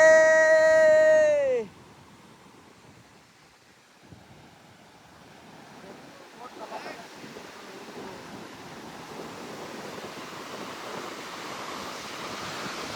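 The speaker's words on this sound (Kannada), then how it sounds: "ದೊಡ್ಡ ದೊಡ್ಡ ಅಲೆಗಳು ಬಂದಿರೋದು" A loud tonal chime opens, then falls quiet before large ocean waves roll in on a beach in Goa, a rising wash of surf mixed with gusty wind noise.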